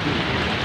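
Steady rain falls at a market in a dense, even hiss of drops, loud and close, with no talking.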